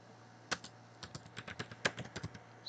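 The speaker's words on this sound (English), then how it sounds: "So all you need to do is just type your keyword here." Someone types a keyword on a computer keyboard: a quick, uneven burst of about a dozen close, crisp key clicks over a low steady hum, with no talking.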